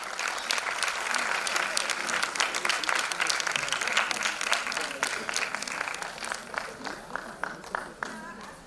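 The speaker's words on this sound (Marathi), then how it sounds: "टाळ्या जोरदार अश्मिक कामते यांच्यासाठी." An audience at the Navi Mumbai Kala Bhushan award ceremony in Vashi breaks into sustained, dense applause that rolls on strongly and thins toward the end, with voices mixed in.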